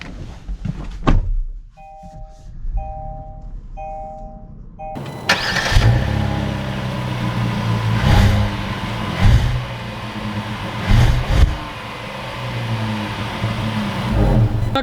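A 2022 Kia Carnival LX minivan starts with a brief crank and catch after a few soft chimes, then its engine pulls away and accelerates, rising and surging at close range with no talk.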